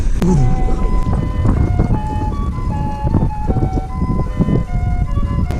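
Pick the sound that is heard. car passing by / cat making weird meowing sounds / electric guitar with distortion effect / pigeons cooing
car passing by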